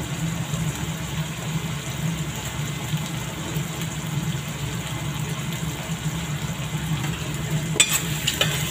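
Squid (pusit) fries in a pan with oyster sauce, sugar and pepper, giving a steady, even sizzle throughout with faint stirring scrapes and a few sharper clatters near the end.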